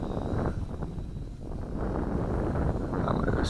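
Wind buffeting a microphone outdoors during a drone flight, a steady low rumbling roar with gusty fluctuations throughout, no voices.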